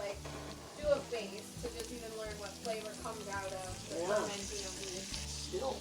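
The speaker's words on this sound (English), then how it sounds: "I like to add the dandelion greens first and let them cook down." Dandelion greens cook down in a pan alongside caramelized onions, daylily and dock roots, giving a steady soft sizzle with light stirring. A voice talks over it throughout.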